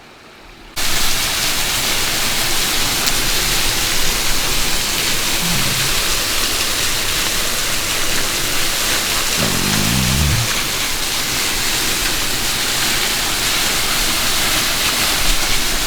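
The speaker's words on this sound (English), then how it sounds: "Cool waterfall." Bulge Hole waterfall in Southern Illinois roaring loud and steady at close range, a constant broadband rush of falling water that starts abruptly and continues unbroken, with a couple of faint low thumps partway through.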